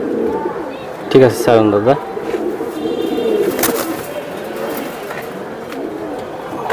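A female Giribaj racing pigeon gives a short, throaty coo up close, followed by softer bird sounds, while people talk nearby in the open air.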